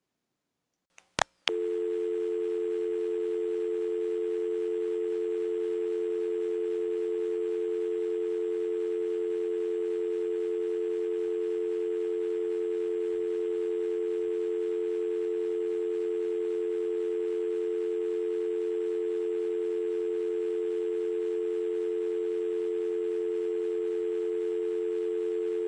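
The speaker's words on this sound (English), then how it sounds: "listening to the dial tone timing out and hearing the recording that" A steady telephone dial tone drones on unbroken for over twenty seconds on a Palmerton Telephone Company line, left off-hook and timing out, preceded by a couple of sharp clicks at the start.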